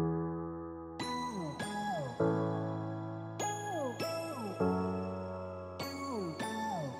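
Bright electronic notification chimes ring out several times in a rising pattern, each ding sustained with a shimmering decay, sounding alone and clear with no voices.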